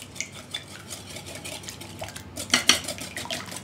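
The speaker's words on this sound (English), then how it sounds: "So just kind of beat it together so it's like one smooth batter." Eggs being beaten into French toast batter in a bowl, with quick, close clinks and scrapes of utensil against the bowl, a brief sharper clatter near the end, and no talking.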